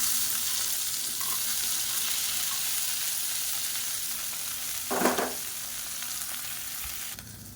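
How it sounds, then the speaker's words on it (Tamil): Cut okra sautés in hot oil in a pan, a constant close sizzle and crackle that holds steady throughout, broken by one brief clatter of stirring midway, with no speech. "இந்த வெண்டைக்காயை நல்லா வதக்கி எடுத்துக்கலாம்"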